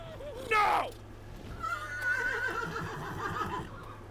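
A horse in the video game Elden Ring gives a sharp descending whinny, then a longer, wavering neigh, both close and clear over a low background hum.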